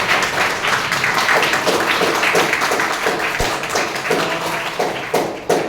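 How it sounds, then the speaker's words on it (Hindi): Audience applause for a judge at a public speaking session, a continuous roomful of clapping at steady strength that carries on for several seconds with a slight dip near the end. "तो मैडम के लिए फिर से एक बार जोरदार तालियां"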